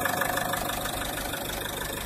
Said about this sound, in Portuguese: Então isso aí é o motor, pessoal.